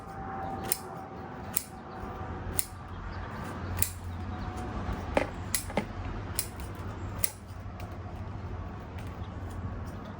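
Roots of a cotoneaster bonsai being cut through with shears, a series of crisp, close snips at an irregular pace over quiet background.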